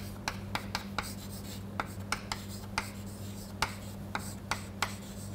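An equation being written out by hand: faint scratchy strokes come in short, irregularly spaced taps over a steady low electrical hum.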